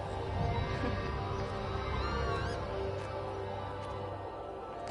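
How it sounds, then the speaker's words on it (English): Birds calling in the game Everybody's Gone to the Rapture, faint warbling chirps over a dense, steady ambient drone, with no talking. "It's a weird sound. I guess those are birds."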